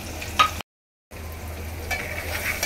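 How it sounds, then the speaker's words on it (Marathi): Turmeric and salt frying in hot oil for a village-style fenugreek dish, a close crackling sizzle broken by a brief gap of total silence before it resumes. "आता हा मसाला आपण चांगला फ्राय करून घ्यायचा."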